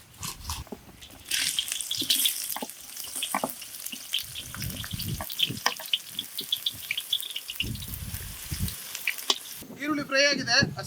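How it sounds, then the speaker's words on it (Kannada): Onions frying in oil in a pan during outdoor cooking, with a steady crackling sizzle and intermittent stirring clatter, and voices talking at times over it. "ಈರುಳ್ಳಿ ಫ್ರೈ ಆಗಿದೆ."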